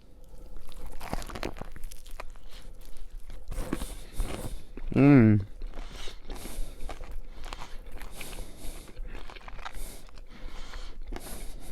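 Loud crunchy bites and chewing of a crispy fried chicken sandwich up close, repeated crackles with a short hum in between and no talking.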